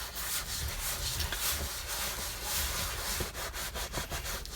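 Leather cleaner being scrubbed and spread into the seams of King Ranch Ford truck leather seats: a steady, close rubbing and brushing scrub that runs continuously with rhythmic strokes and no talk.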